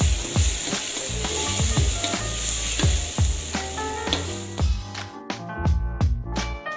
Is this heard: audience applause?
no